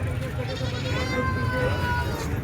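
A goat bleats with a wavering, drawn-out cry amid the steady din of a busy livestock market, with people talking loudly nearby.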